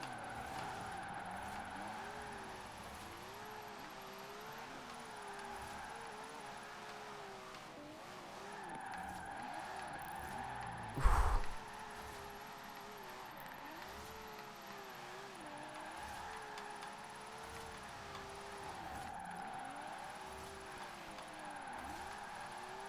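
Nissan 240SX drift build sliding along an icy winter road in Forza Horizon 4, with a steady revving engine whine, wavering tire squeal through drifts and a brief sharp impact near the middle, all with no talking.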